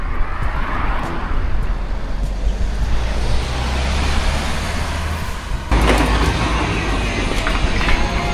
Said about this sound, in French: mais les voitures vont vite.